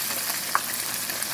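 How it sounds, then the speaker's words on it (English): Floured chicken tenders deep frying in hot oil give a soft, steady sizzle and faint crackle, quiet and continuous with no voices. "And it is still frying."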